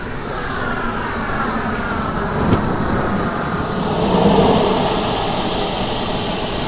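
A model jet turbine engine throttled back to half power on a landing approach gives a steady, loud roar topped by a thin high whine, swelling slightly partway through. No one speaks.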